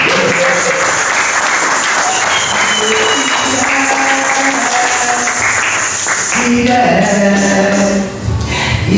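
Church congregation applauding and cheering together, a dense, loud, steady clapping wash with voices mixed in, shifting at the end into a strong musical swell as singing begins.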